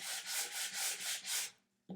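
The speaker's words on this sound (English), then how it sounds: "doing just a very light sanding." Sandpaper lightly rubbing the top of a white-painted wooden piece in six steady back-and-forth strokes, close and even, then a brief pause before a short scrape at the end.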